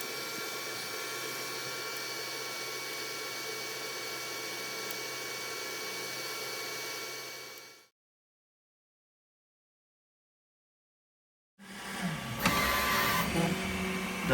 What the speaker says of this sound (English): Now it's cleaned up the nozzle. And now I believe it's gonna make sure that the nozzle is clean.